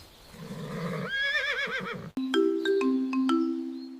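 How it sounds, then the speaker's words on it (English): A horse gives a short wavering whinny close up, followed by a bright plucked musical jingle that rings out on its own. "A baby horse is called a foal."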